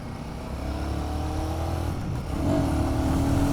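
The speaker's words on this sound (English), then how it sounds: "The Sherpa engine is really doing well." A Royal Enfield Guerrilla 450 with its Sherpa engine is ridden and overtakes, its engine note rising in pitch and swelling louder toward the end over steady road and wind rumble.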